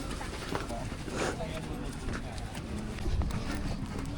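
Horses walking along a trail on Mount Bromo, their clip-clop hoofbeats scattered and irregular at moderate distance amid outdoor ambience, with people talking nearby.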